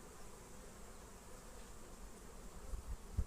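Honeybees hum in an open hive during a spring colony inspection after overwintering, a faint, steady low drone with a few soft knocks near the end.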